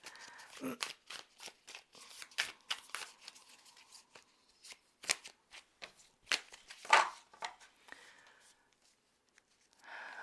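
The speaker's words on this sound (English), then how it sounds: "So I'll shuffle these and we'll lay out the cards." A stiff tarot deck being shuffled by hand, crisp riffling bursts and card snaps coming in irregular clusters, close and fairly quiet, with short gaps between passes.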